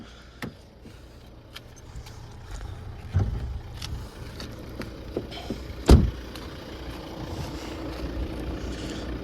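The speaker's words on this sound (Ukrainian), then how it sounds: "Двигун просто муркоче." A 2014 Volvo V60 2.4 five-cylinder D4 diesel engine idles with a steady low rumble, broken by a few brief clicks and knocks, one sharper thump near the end.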